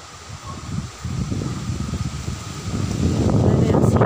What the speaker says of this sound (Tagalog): Basta ang lakas naman ng hangin.